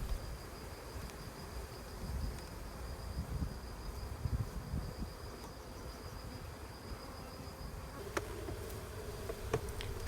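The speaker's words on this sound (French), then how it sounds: "L'eau pulvérisée réduit l'envol des abeilles." Honeybees buzz steadily at an open Laurenz queen-rearing hive, a dense continuous insect drone close by with a faint high whine, a few sharp clicks and light knocks near the end.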